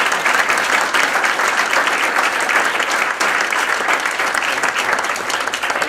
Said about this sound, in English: Let's give our panelists again another round of applause.